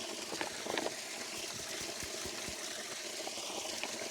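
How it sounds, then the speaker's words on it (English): Water trickles and gurgles into a bag during an Australian mountain hike, a quiet continuous liquid rush with a few soft bumps and handling knocks, no talking. "let's see if we can get some water in this bag."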